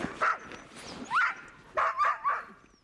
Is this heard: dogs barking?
yes